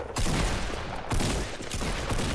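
Rapid bursts of gunfire in the Fortnite video game, several volleys of shots close and loud, one after another with brief gaps between them.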